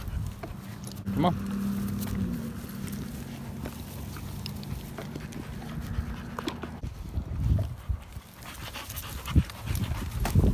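A French Bulldog panting hard and fast at close range, a steady rhythmic huffing that runs through most of the stretch while a person talks and footsteps shuffle nearby.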